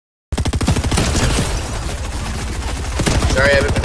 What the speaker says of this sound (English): Keep shooting him!